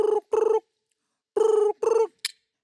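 A voice imitating an old-style telephone ring on a comedy stage, two double bursts of buzzing trill separated by a pause, clear and close, ending with a short high squeak.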